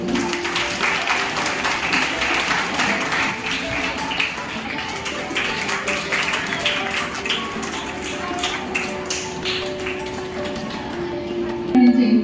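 An audience claps steadily at a school retirement ceremony. The applause is dense and continuous, heard from the middle of the crowd, with faint voices mixed in and a brief louder burst near the end.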